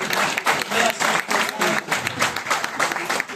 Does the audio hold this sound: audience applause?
yes